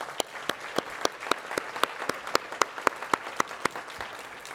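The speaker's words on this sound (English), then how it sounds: "Please give them all a big round of applause." An audience at a cancer leaders' summit gives a round of applause, with distinct individual claps standing out in a moderate, fairly sparse rhythm from a modest crowd, steady from start to finish.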